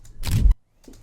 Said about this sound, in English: I've taken these 4 different film burns, and they come also with a sound effect